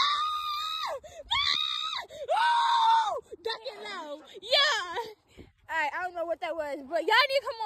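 A girl screams outdoors in long, piercing, close wails, several drawn-out shrieks in a row, followed by excited squealing and yelling voices.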